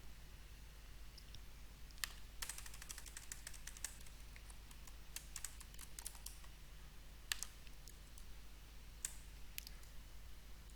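A username and password are typed on a computer keyboard: quiet, close key clicks in short bursts and scattered single taps, separated by pauses.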